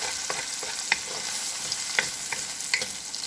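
Sliced onion and chopped garlic sautéing in a pan for a shrimp chow fun, a steady sizzle with scattered sharp crackles and pops, close and fairly quiet, with no talk.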